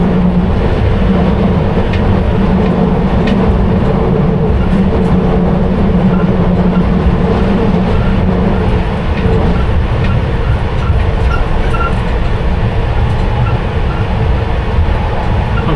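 A London Underground Piccadilly line train runs loud and steady from the rear cab, a constant rumble with rail clatter and wheel noise as the driver brakes for a speed limit.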